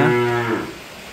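A single Simmental cow lows once, a short, loud, close moo that fades within about a second.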